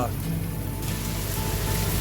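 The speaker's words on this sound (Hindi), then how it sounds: "वृंदावन में खूब वर्षा हो रही है रे, खूब बिजली कड़क रही है।" Heavy rain pours during a sudden night storm in Vrindavan, a dense, steady wash of rainfall drumming on surfaces with no break, loud and close throughout.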